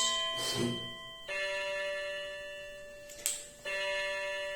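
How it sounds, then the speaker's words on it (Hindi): A bright electronic alarm chime marking the end of a class rings in sustained tonal bursts, pausing briefly and restarting twice, loud and close with no talking. "ये अलार्म था जो मैंने लगाया"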